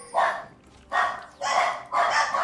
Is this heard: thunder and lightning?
no